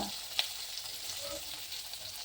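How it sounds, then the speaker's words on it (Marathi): Mustard seeds, curry leaves, crushed garlic and finely chopped onion fry in hot oil for a rustic Maharashtrian pithla, giving a steady close sizzle with a brief sharp crackle near the start and no voices. "पहिले मी मोहरी टाकत आहे तेलामध्ये कढीपत्ता टाकत आहे ठेचलेला लसूण टाकत आहे बारीक चिरलेला कांदा"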